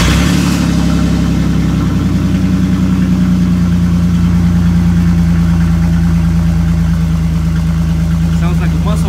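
A 1999 Chevy S10 truck running without a catalytic converter starts up loud and close, its exhaust settling into a deep, throbbing steady rumble with a rough pulsing note.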